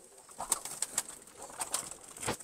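Soft pigeon cooing repeats close by in a coop, with a few quiet rustles and faint chirps mixed in.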